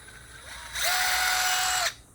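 Cordless lithium battery power tool rated around 150 pounds of torque, used in car oil change work, revving up into a steady high whine for about a second before winding down, close and alone.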